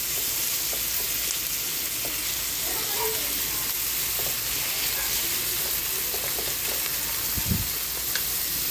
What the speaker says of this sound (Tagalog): Lutuin natin yung kamatis para madurog.